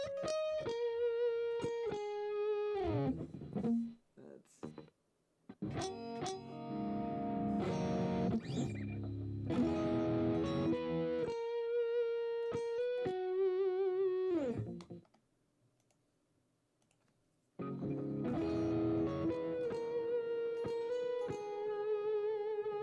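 Acoustic and electric guitar tracks routed to one bus with the effects plugin bypassed, playing melodic riffs with bright, clean sustained notes, two pauses, one near-silent gap, then resuming.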